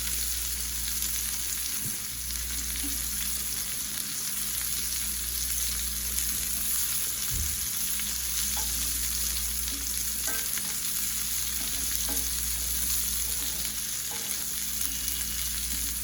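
Seasoned shrimp with Spanish paprika and onion powder sizzling in a hot cast iron pan, a continuous close frying hiss with an occasional faint clink, steady throughout and without speech.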